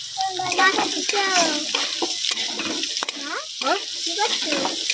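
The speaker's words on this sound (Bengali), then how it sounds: "এর সাথে মুসুর ডাল দিয়ে দেবো, দিয়ে ভালোভাবে ভেজে নেব" Potatoes and red lentils stirred and frying in a pan, with scraping and soft sizzling bursts in an uneven rhythm, close and fairly loud, with faint talk in the background.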